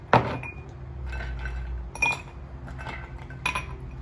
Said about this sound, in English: Put some ice in here.